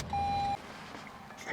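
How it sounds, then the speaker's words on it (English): A single steady electronic chime from a car's seatbelt warning sounds for about half a second, clear and close inside the cabin, followed by quiet interior rumble. "every time you get in this car it's going to beep without it on"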